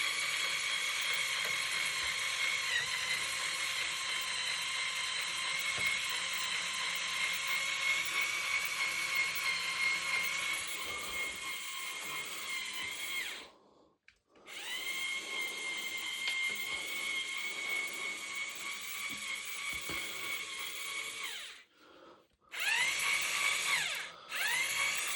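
Small electric motor of a LEGO crane straining under a lifting load, a steady high-pitched whine and buzz running near and loud, briefly cutting out twice before starting again.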